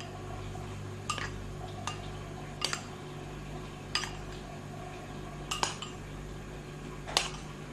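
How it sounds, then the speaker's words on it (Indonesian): A metal spoon scrapes and clinks against a bowl while wheat flour is spooned in for a snack batter, sharp isolated taps spaced about a second apart over a quiet room hum. "masukkan bahan pertama yaitu tepung terigu sebanyak 15 sendok makan"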